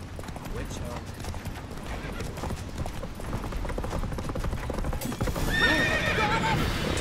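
A horse galloping in The Witcher 3: Wild Hunt, a rapid continuous hoofbeat rhythm under game combat noise and shouting voices, swelling louder toward the end.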